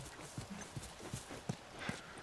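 Horse hooves clip-clopping in the video game The Last of Us, a steady trot of distinct thuds about three per second over a constant hiss of background ambience.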